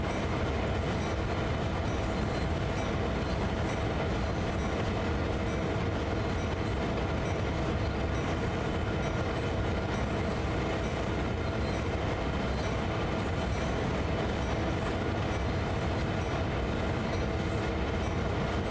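A freight train hauled by two locomotives climbs Sand Patch Grade in Train Sim World 2, a loud steady rumble of engines and rolling wagons with faint wheel clatter and squeal, continuous throughout with no voices.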